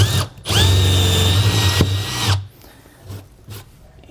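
A power drill bores a small pilot hole through a trailer floor, a loud steady whine lasting about two seconds before it stops, followed by quieter handling sounds.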